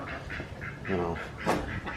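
Ducks quack repeatedly nearby, a noisy series of short nasal calls with a louder burst near the end.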